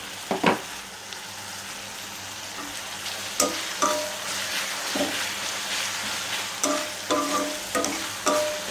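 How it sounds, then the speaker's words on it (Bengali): Onions sizzle and fry in hot oil for chicken chaap, with intermittent stirring scrapes and clinks from a utensil over a steady crackle, close and alone without voices. "আর এই যে তেলে পেঁয়াজ দিয়ে দিচ্ছি।"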